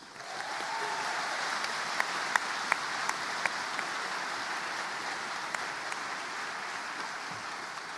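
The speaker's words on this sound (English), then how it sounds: "perhaps we can give her a round of applause anyway" Applause from the audience at a graduation ceremony, a steady, even roll of many hands clapping throughout, with a few sharper individual claps standing out, moderately distant.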